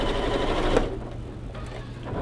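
A sewing machine runs a short burst of stitching along a quilt seam for a holiday mini quilt, then stops, leaving a quieter pause with faint mechanical clicks.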